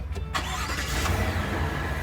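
A tow vehicle's engine being started while parked with the brake set, hooking up an RV setup: a short crank at the start, then a steady mid-pitched engine running up close and fairly loud.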